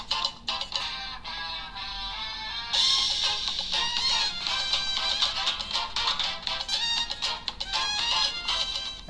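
An Infinix Note 30 plays a ringtone through its dual speakers, a bright, busy synthetic melody running continuously and fairly loud, stepping up in intensity partway through, with no voices.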